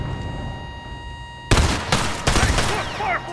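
Grenade launcher fire in The Last of Us Remastered: a quiet hum, then a sudden loud burst of explosive blasts and rattling gunfire in several heavy pulses, close and chaotic.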